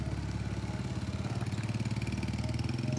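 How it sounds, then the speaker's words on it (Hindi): A motorcycle ridden by a young girl through an Indonesian village gives a steady, low, pulsing engine drone at a constant speed, fairly faint and continuous throughout, with no talking. "ये बच्ची बाइक चला रही है।"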